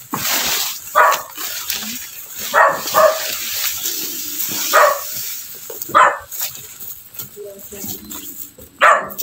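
Several dogs bark repeatedly outdoors, sharp irregular yips and barks spread across the clip, with a person talking in between.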